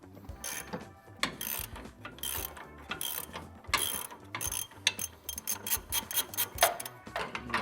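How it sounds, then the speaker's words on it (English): Ratcheting socket and wrench loosen 21 mm control arm bolts on a Silverado ZR2, giving repeated quick metallic clicks in irregular bursts, close and fairly quiet. "use a socket on one end and a wrench on the other, and just start to loosen them"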